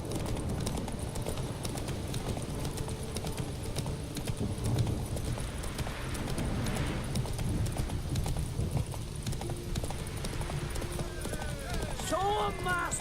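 Roach, the horse in The Witcher 3, gallops in a steady rapid clip-clop of hooves that runs throughout, with game speech and a brief whinny-like call near the end.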